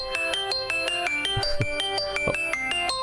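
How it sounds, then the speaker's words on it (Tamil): Mobile phone ringtone for an incoming call in a Tamil TV serial, a bright repeating electronic melody of quick chiming notes, loud and close, with a couple of soft thumps beneath. "பிரசாத் தான் கால் பண்றான்."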